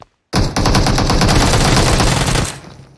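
Sustained automatic gunfire in the video game PUBG Mobile, a loud rapid burst of shots lasting about two seconds after a short silence, then tapering off.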